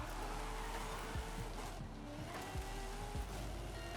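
A race car in Forza Horizon 5 runs under a steady engine drone with repeated short squeals and thumps as it brakes and the tires skid, a rough rhythmic pattern of bursts over the continuous motor.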